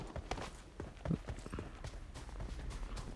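Footsteps in the mobile battle royale game PUBG Mobile sound on the Vikendi map, a quick run of soft, rhythmic thuds that stays faint and close, with no talk over it.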